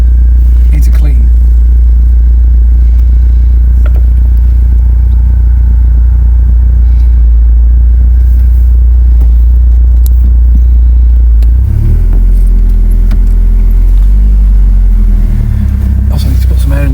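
BMW Z3 with differential trouble driving on the road, a steady loud low engine and road rumble throughout that shifts in tone near the end, with people talking over it inside the car.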